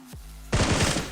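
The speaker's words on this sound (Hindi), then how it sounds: "मैं इसे डराने के लिए फायर करता हूँ" Automatic gunfire in the mobile battle-royale game PUBG Mobile: after a brief quiet lead-in with a low tone, a loud burst of rapid shots starts suddenly and continues to the end.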